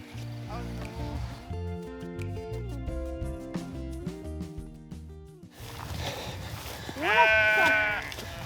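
Sheep bleat now and then in a French pastoral setting where herders keep watch for wolves. Sustained music plays over most of the scene, and people talk near the end.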